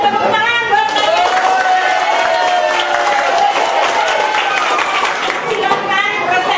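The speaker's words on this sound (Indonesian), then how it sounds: "Tepuk tangan buat kalian" Classroom students clapping together during a lesson, a steady continuous patter of hands with children's voices and chatter mixed throughout.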